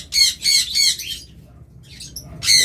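Caged lovebirds and budgerigars squawk in loud, harsh repeated bursts, three in quick succession, then a pause with faint chirps before another squawk.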